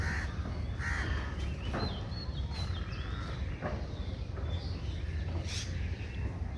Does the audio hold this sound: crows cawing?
yes